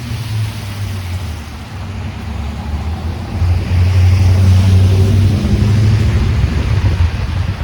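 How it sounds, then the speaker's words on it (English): Strong wind roars along a snowy downtown Toronto street in winter, a deep rumbling gust that swells louder midway and stays heavy, with faint traffic underneath. "And it is still windy."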